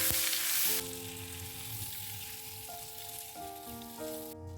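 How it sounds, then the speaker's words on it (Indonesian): Chili, shallots, garlic and tomato fry in reused oil left from frying salted fish, a steady close sizzle with faint stirring beneath a faint tonal hum. "minyak bekas untuk goreng ikan asin itu untuk goreng cabai, bawang merah, bawang putih, tomat"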